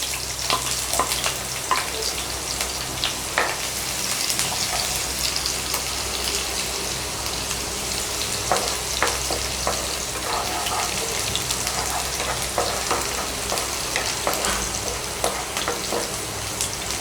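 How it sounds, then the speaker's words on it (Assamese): Chopped onions sizzle and crackle steadily in oil left over from frying banana-flower koftas, a continuous close frying hiss with small pops throughout and no talking. "এতিয়া প্ৰথমতে কাটি ৰখা পিঁয়াজখিনি দি ভাজি ল'ম অলপ।"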